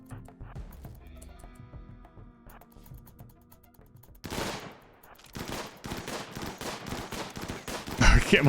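Colonists firing guns in the colony-management game RimWorld: quiet game music and scattered clicks give way to a burst of rapid shots, then repeated close gunfire cracks continuing to the end, with a loud final volley.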